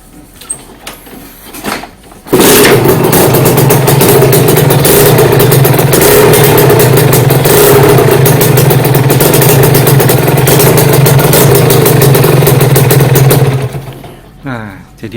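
Kawasaki Ninja motorcycle engine starting from cold, catching abruptly after a few faint clicks, then holding a loud, steady idle with a buzzy hum before shutting off near the end.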